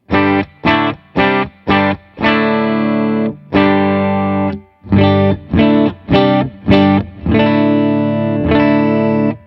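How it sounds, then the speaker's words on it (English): Les Paul humbuckers played through a Fender Hot Rod Deville with reverb off: a run of short stabbed chords, then sustained ringing chords, repeated in two phrases, loud and close with a slight gritty edge. "So now I want to try it with a Les Paul with humbuckers, just to test the headroom"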